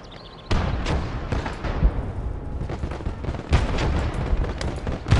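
Flak gun fire in the World War II strategy game Gates of Hell, a series of loud, close gun bursts over a busy battlefield, with other shots and rumbling blasts following unevenly.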